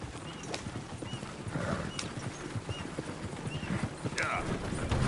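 Horse hooves clip-clop at a steady rhythm in Red Dead Redemption 2, close and distinct, with a brief whinny and game character voices talking over the hoofbeats.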